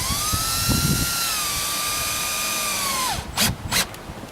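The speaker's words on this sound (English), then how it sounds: "we pick up our screw gun, we thread this in ever so gently." Screw gun driving a screw into a clothes dryer vent mounted on textured plywood siding, a loud close whining drill tone that rises then winds down and stops, followed by two short sharp bursts.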